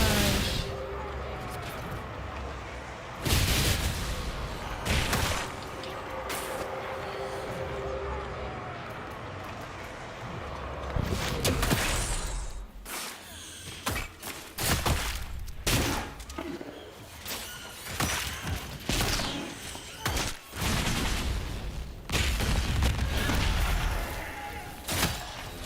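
Energy Barrage spell cast by a mage in Dragon Age: Inquisition in the Exalted Plains, heard as a run of sharp, punchy magical blasts and booms at irregular intervals, with a player talking over the game sounds.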